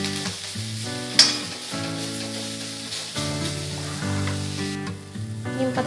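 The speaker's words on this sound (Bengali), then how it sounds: "নিম পাতাগুলো আমি মচমচে করে ভেজে নিব অল্প তেলের মধ্যে।" Neem leaves crisp in a little oil left from frying eggplant, giving a steady close sizzle with occasional stirring, set under continuous background music.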